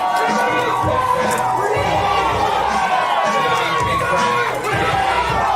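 A wrestling crowd at a live retro rasslin' show cheers, yells and whoops continuously and loudly throughout, with a dense roar of many voices that never lets up.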